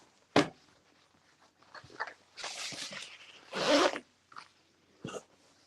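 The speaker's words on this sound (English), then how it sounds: "So just open up both your zippers so it looks like this hot mess." Zippers on a sewn zip-and-go bag are pulled open in several short rasping bursts of varying length, close by and fairly quiet, with soft handling sounds between them.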